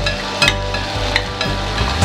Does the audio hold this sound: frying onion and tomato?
yes